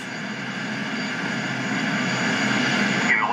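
A steady, even roar of Bombardier CRJ700 jet engines at idle thrust during a descent in a flight simulator game, holding constant and close with no voices over it.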